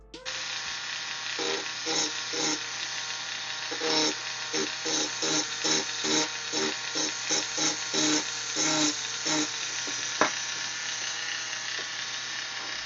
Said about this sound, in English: Here I'm using a cylindrical rounded tipped bit to further define the top lip.